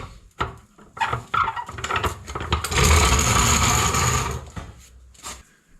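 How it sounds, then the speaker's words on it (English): A torque wrench tightening the rear shock absorber bolts on a Fiat 500, giving close, loud ratcheting and clunking metallic sounds, with a sustained grinding stretch in the middle before a few final clicks. "I'm going to torque these up."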